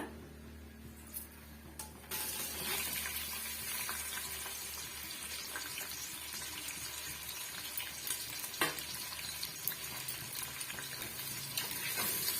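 Onions and green chillies drop into hot oil in a cooker pot for chicken biryani, bursting into a loud steady sizzle that carries on unbroken, with occasional scraping of a stirring spoon.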